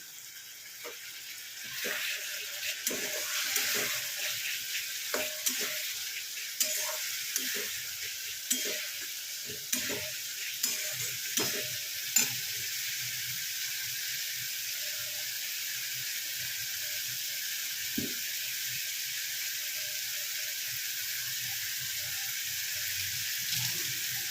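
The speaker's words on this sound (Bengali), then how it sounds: "এবার এটাকে ভালো করে কষাবো।" A spice masala splashed with a little water sizzles in a pan with a steady hiss, broken by a run of regular stirring taps and scrapes in the first half. Close and alone, with no talking.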